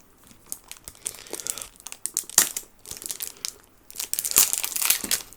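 Fragrance packaging being torn open by hand: crisp crinkling and ripping in several bursts, close and alone, with short pauses between pulls.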